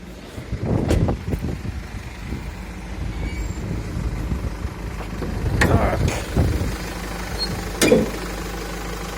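A 2018 Mercedes Sprinter 316 diesel with an automatic gearbox runs at idle, a steady low engine drone heard up close with a few brief knocks and clatters over it and no talk.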